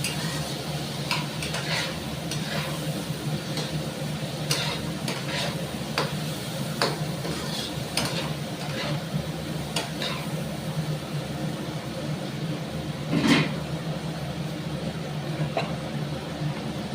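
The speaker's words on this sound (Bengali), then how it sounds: "এই সবজিটাকে আমি খুব ভালো করে বন্ধুরা ভেজে নেব।" Salted vegetables frying in a pan while being stirred, a steady low sizzle broken by irregular clicks and scrapes of the utensil against the pan, with one louder scrape near the end.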